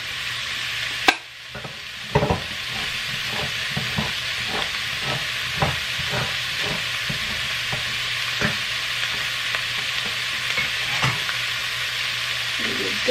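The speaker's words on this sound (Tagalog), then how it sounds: "i-add natin yung coconut milk natin" Coconut milk hits a hot frying pan and is stirred, giving a steady close sizzle broken by regular scraping strokes of the spoon, with a sharp clatter near the start and no talking.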